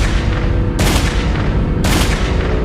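Two loud, booming gunshots ring out about a second apart, each a sharp broadband blast over a dense, heavy background rumble.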